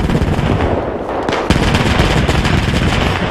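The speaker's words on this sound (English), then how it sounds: "There's only a giant auto cannon shooting us." Rapid, continuous heavy gunfire from a giant autocannon in Arma 3 pounds away loudly, a dense stream of booming shots with a brief stutter in the middle.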